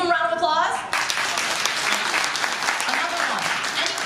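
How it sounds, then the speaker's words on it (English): Audience at a security conference applauding after a talk, a steady burst of clapping that starts right after a brief spoken line from a presenter and continues evenly to the end. "Can we give him a round of applause?"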